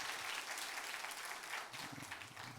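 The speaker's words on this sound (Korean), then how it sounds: "우리 주님께 영광의 박수와 다시 한번" Worship festival congregation applauding in a large hall, a dense, steady wash of many hands clapping at once that holds evenly from start to finish with no voices standing out.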